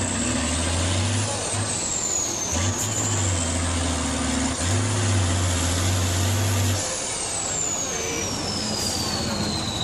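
Six-wheel-drive truck driving off-road, a steady heavy engine drone with low rumbling tones that shift and drop away, plus a faint whine rising and falling, close and continuous with no talk.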